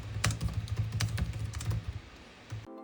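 Fast, quiet key presses on a Gigabyte Aero X16 RTX 5070 gaming laptop keyboard, a run of soft close clicks in uneven bursts that stop just before the end, with no speech.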